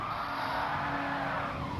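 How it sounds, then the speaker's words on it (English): Race car tires squeal in a sustained slide through a corner at Suzuka in Gran Turismo Sport, a steady screeching hiss over engine noise lasting nearly two seconds. "A bit of a slide around the corner there, but controlled it nicely."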